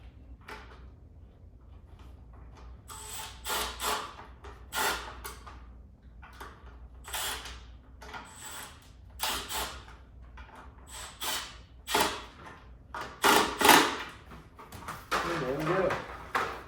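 Screws being driven into an EV Base front splitter for a Tesla Model Y, a string of sharp clicking and scraping bursts in uneven rhythm, close and fairly loud, with quiet pauses between them.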